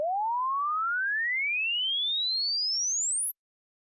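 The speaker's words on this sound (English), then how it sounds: "The new sweep sounds like this." A pure sine sweep test signal for room impulse response measurement glides smoothly upward from low to very high pitch over about three seconds, then stops abruptly into silence.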